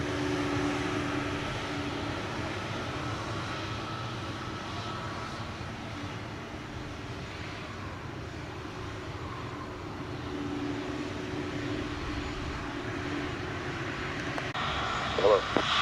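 A JetBlue airliner takes off at Sangster airport in Montego Bay, Jamaica, its engine roar a steady, broad rumble held at an even level throughout, with faint radio chatter from the tower underneath.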